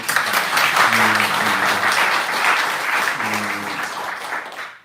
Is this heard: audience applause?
yes